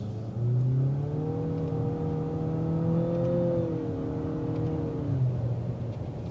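A 2022 Nissan Altima SR on a test drive accelerates hard, its engine note rising steadily from inside the cabin, then easing off near the end with no talk.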